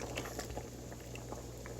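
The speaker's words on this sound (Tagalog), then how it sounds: "Tapos lagyan natin ng gata." Mung bean stew simmering in a pot as coconut milk is poured in, giving a steady close bubbling and gentle liquid churn that runs throughout without a break.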